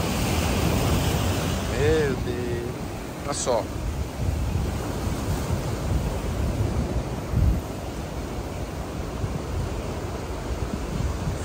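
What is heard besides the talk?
strong ocean waves on Boa Viagem beach, Recife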